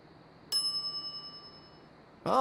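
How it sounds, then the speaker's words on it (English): A service bell on a counter in The Secret of Monkey Island gives one bright ding that rings out and slowly fades, then a second strike comes at the very end. "Ring bell for service."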